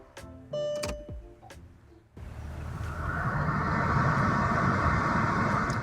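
A 2004 Mercedes S-Class starts up with a few clicks and chimes, then its blower motor kicks on into a steady, rising whoosh of airflow that holds loud and even to the end.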